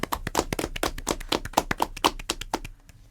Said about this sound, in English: We're gonna do a round of applause real quick